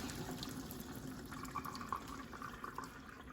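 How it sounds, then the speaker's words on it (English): Cooking water pours and drains steadily from freshly boiled rice being strained in a home kitchen, a continuous close splashing trickle with no talking. "The water is draining right now."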